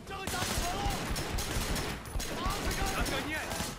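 Pistol fire crackles in a firefight in Sleeping Dogs, a dense run of rapid shots layered with other gunfire through the whole short stretch.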